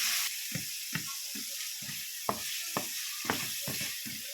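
Garlic and shrimp fry in a pan with a steady sizzle, broken by repeated clicking scrapes of a utensil stirring, nearby and fairly loud, with no one speaking.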